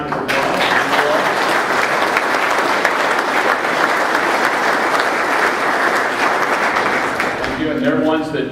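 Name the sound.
audience applauding state legislators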